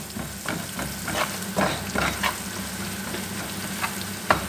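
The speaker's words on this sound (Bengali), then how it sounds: "এগুলো আবার ভালো করে একটু কষিয়ে নিব, একটু মিক্স করে নিব আর কি।" Onion, chilli and garlic with turmeric and salt are sautéed in a pan, a steady sizzle punctuated by regular scraping stirs of a spatula, close and moderately quiet.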